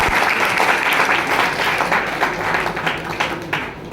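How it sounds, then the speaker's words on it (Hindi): Dense applause from an audience at a Hindi-speaking gathering, loud and sustained throughout, many hands clapping at once with a slight fade toward the end. "बजा दो कोई तालियां"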